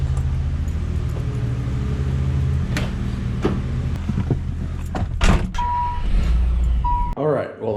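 A Nissan 300ZX is driven out of a home garage, its engine giving a steady low rumble throughout, with a short electronic beep tone near the end and occasional clunks over the motor.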